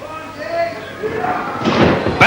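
A wrestler is slammed into the ring post during a 1986 bout in a big-top arena, landing as a sharp loud bang near the end, after crowd noise and commentary.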